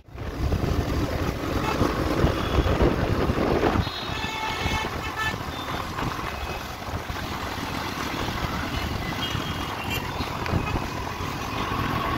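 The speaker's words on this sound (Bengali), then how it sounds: "আবার ট্রাফিক।" Kolkata road traffic near a metro station is a dense, loud, continuous roar of passing vehicles and wind, with a few horn toots. It carries on throughout and eases slightly after about four seconds.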